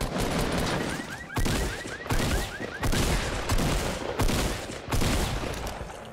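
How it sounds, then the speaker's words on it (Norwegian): Bursts of gunfire in Fortnite crack out in repeated volleys, about six loud clusters of rapid shots separated by short gaps, close and dominant with no talking. "Traff ikke noen skuddene mine, vet du."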